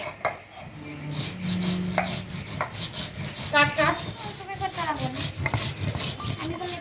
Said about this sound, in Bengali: বেটে নিব জিরা